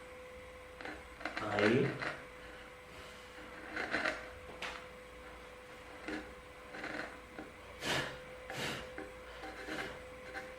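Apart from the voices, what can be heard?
cutting wood for a through dovetail joint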